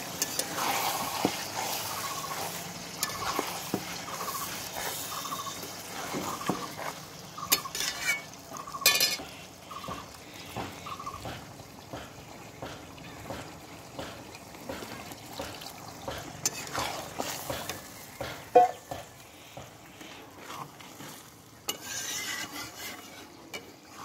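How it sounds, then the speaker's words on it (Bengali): Spiced water is poured into masala frying in a pan and stirred, giving a long stretch of gentle sizzling and wet scraping with scattered metal spoon knocks against the pot. "মশলার জলটা দিয়ে দিচ্ছি, বেশি দেবো না, হালকা"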